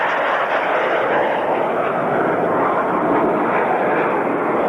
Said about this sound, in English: the Meteor gets airborne in front of us